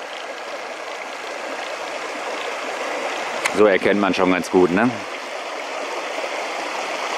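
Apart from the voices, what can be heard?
stream of water flowing over stone steps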